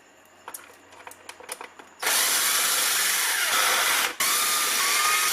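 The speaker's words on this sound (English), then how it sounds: "You can see why you want to use an electric drill" An electric drill drives long screws into a Traxxas X-Maxx servo adapter, with a few light clicks of handling before the motor whirs loudly and steadily, pausing briefly, then resuming.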